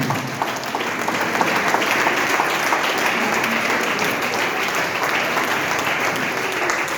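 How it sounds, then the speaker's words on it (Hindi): A large audience at a business presentation applauds steadily and loudly, a dense continuous wash of clapping lasting throughout with no pause. "उनके लिए जोरदार तालियों से स्वागत करेंगे"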